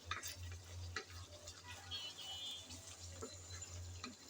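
Spice masala frying in oil while being stirred with a spoon, a faint, soft sizzle with occasional light scraping and tapping against the pan.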